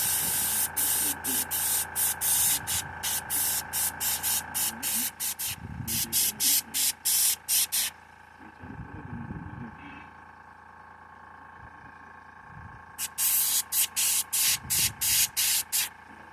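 An airbrush sprays paint onto a dark-gray-primed miniature with pale alien skin in rapid, evenly spaced short bursts. The bursts stop for a few seconds and then start again, close and crisp.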